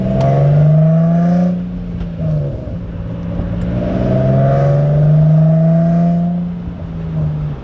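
An Infiniti G35's engine hums steadily from inside the car, its pitch rising and falling gently in smooth waves as it drives.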